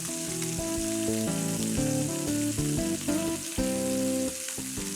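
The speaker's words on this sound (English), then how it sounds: "And so then we're going to let that sear on that side." Pork sears in a hot pan with a steady, close sizzle throughout, under a layer of melodic background music.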